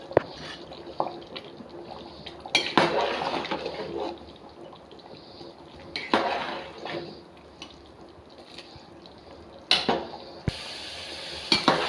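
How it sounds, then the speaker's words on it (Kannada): Rice dish being stirred in a cooking pot, with repeated scraping and clinking of a ladle against the metal alongside soft wet, bubbling sounds, close and moderately loud with no talking. "ಮಧ್ಯ ಮಧ್ಯ ಕೈ ಆಡ್ತಾ ಇರಬೇಕು, ಇಲ್ಲಾಂದರೆ ತಳ ಹಿಡಿಯೋ ಚಾನ್ಸಸ್ ಇರುತ್ತೆ"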